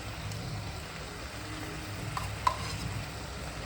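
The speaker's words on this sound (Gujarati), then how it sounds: "હવે જો સરસ દૂધ બળી ગયું છે ને ઘી નાખું છું" Ghee goes into reduced milk for bottle gourd halwa and gets stirred, giving a soft, even sizzle with gentle stirring throughout and one brief clink partway through.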